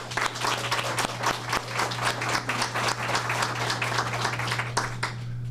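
An audience applauds to welcome speakers at the launch of a city college tech launchpad, a steady patter of many hands clapping throughout with a low hum underneath.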